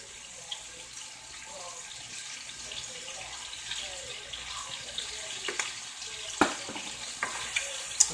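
Shrimp seasoned with Creole seasoning and parsley flakes are stirred in a hot pan, giving a soft continuous sizzle with scattered scraping clicks of the utensil and a few sharper knocks toward the end, fairly quiet overall.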